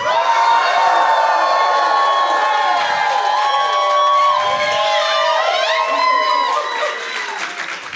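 A room full of people at a startup demo day cheers and shouts as loud as they can on a count of three, a big sustained roar with whoops and claps that eases off slightly at the end.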